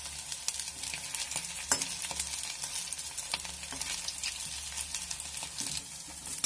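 Potato cutlets frying in hot oil until brown, a steady crackling sizzle with occasional sharper pops and light stirring clinks, no voices.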